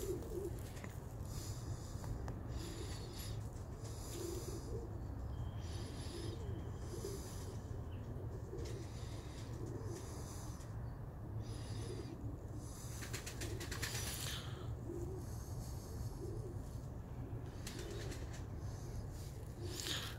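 Iraqi play pigeons, short-beaked fancy breeds, coo softly in a loft, their low repeated calls spread steadily across the whole stretch over a constant background hum, with no one speaking.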